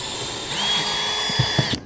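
A power drill runs on an RV roof vent cap, a steady whine held close for over a second with a few small knocks, then cutting off abruptly.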